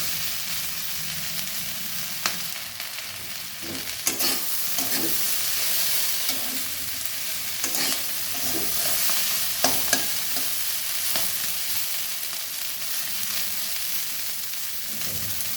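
Onion stalks and flat beans stir-fried in a little oil, a loud continuous sizzle with repeated scraping and clattering stirring strokes close by, no voices.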